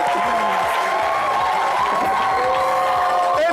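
A studio audience claps and cheers loudly for guests arriving on a French-language TV entertainment show, a dense, steady wash of applause with crowd noise running throughout.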